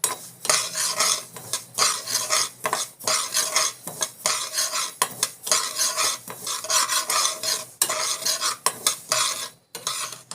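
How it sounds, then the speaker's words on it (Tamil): Mustard seeds dry-roasting in a pan while being stirred, a steady scraping and rattling of a metal spoon against the pan with faint crackle, continuous and close, with a brief pause near the end. "கடுகு வந்து நல்லா வந்து வறுத்துக்கலாம்"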